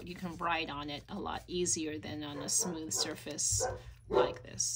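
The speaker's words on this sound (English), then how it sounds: "Excuse my dog, sorry." An excited pet dog barks a few times in a room during a junk-journal paper flip-through, its short yips partly masked by someone talking close up.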